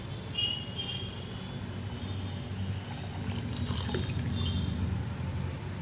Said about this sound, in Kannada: ಕಡಲೆಬೇಳೆ ನೀರು ಬೇಯಿಸ್ಕೊಂಡು ಸೋಸ್ಕೊಂಡಿರೋದು ನೀರು ಮತ್ತು ಒಬ್ಬಿಟ್ಟು ಹೂರಣ ಅವೆರಡನ್ನೂ ಮಿಕ್ಸ್ ಮಾಡ್ಕೊಳ್ಳೋಣ